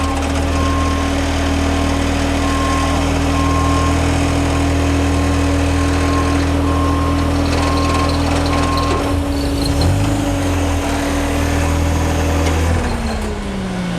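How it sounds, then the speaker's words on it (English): A TMH THDA truck's frame extends at the press of a button, a steady loud hydraulic whine over a running engine. Partway through, the pitch shifts as the motion changes, and then it settles. "Gonna pull the lever out and push the button that says extend frame."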